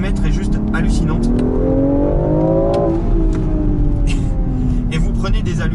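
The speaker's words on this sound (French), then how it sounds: "La voiture ne s'essouffle pas, elle prend des tours jusqu'au bout, 7200." A BMW X3/X4 M Competition engine revving hard toward 7200 rpm, a loud rising mechanical whine that climbs to a peak and then falls back as the revs drop, heard close up from the car.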